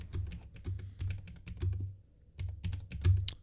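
Rapid keystrokes on a computer keyboard rattle in close bursts of clicks, with a short pause midway before the typing resumes, with no speech.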